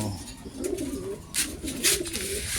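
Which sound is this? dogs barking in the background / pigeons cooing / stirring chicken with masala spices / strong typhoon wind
pigeons cooing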